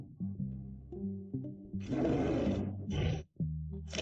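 A dinosaur roar from a T. rex video game arena rises as a broad, rasping burst in the middle, surrounded by shorter tonal, squealing calls.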